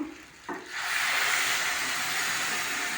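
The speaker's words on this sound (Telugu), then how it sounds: "మనం చికెన్ ఉడికిచ్చినప్పుడు వచ్చిన వాటర్ ఉంది కదా, చికెన్లో నుంచి వచ్చిన వాటర్, ఈ వాటర్ పోసేస్తున్నాను" Water saved from boiling chicken is poured into a hot pan of chicken curry, giving a sudden loud sizzle that swells into a steady, close hiss.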